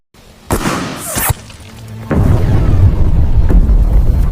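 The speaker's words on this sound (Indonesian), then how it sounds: "bom kemudian diledakkan oleh Raven" Bomb explosion in a Russia–Ukraine war film, a sharp blast followed by a heavy rumbling boom and debris, loud and close, no speech.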